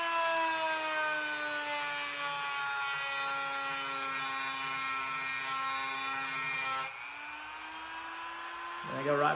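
A Dremel rotary tool with a stone bit grinds a Rambo-style knife with a steady high whine. The pitch drops and shifts partway through as the bit presses into the blade.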